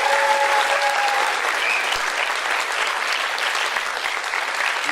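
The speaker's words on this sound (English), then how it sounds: "can I get a round of applause for them?" An audience claps in sustained, dense applause at a Kent Enlightens Nepal event, loud and continuous from a crowd, with a brief whistle partway through.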